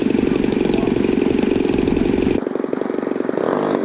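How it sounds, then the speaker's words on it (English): Engine on a 77-inch span RV-8 model airplane roaring loudly at high revs during a run-up, then abruptly throttling back partway through to a lower, rougher idle with a slight rise again at the end. "Engine seemed to sound better on run-up."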